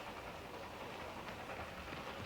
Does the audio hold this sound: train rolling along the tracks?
yes